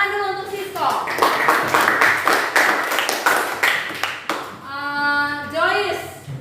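A classroom of children claps hands in rhythmic applause, loud and close, for several seconds, with a teacher's voice speaking before and after.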